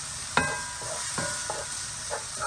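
Vegetables browning in a pan with steady background sizzle, punctuated by a few sharp scrapes and clacks of a utensil stirring, no talking.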